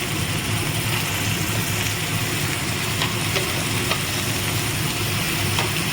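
Tomatoes dropped into ginger, garlic and onion already frying in a pan, giving a steady close sizzle and crackle with faint stirring scrapes, no voices.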